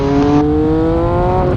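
A 2020 MV Agusta Brutale 800RC motorcycle pulling hard on the throttle, a loud close engine note climbing steadily in pitch with a strong harmonic whine, alone with no voices.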